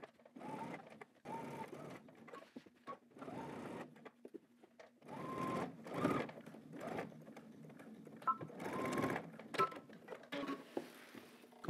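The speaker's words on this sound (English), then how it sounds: "So now we're just gonna head to the machine. We're gonna edge stitch, starting on one side," A sewing machine edge stitches a shirt pocket onto the left front, running in short whirring bursts separated by brief pauses, close and moderately quiet.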